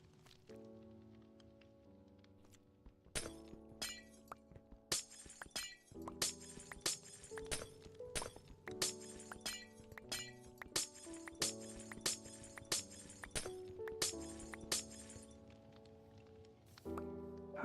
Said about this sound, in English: Part of me wishes there was a different sound effect for when you break glass with silk touch. I always feel like I'm actually shattering the glass.